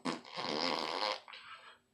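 A wet, sputtering fart from the fart alien in the animated film Treasure Planet, one long loud blast with a shorter, softer trailing burst, heard alone without talk.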